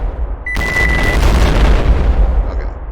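C4 charges are set off together in a video game, making a loud, sustained rumbling blast with heavy low-end boom that fills the whole stretch.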